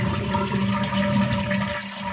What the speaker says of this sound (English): So now I need to just flush it to get all the water out.